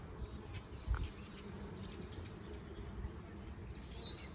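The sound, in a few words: bees buzzing on a hive frame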